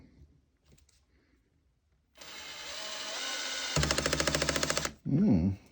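A Metabo 12V drill driver set to clutch 5 whines steadily as it drives a screw into wood, then its clutch slips into a rapid, loud ratcheting clatter, followed by a brief burst of motor noise.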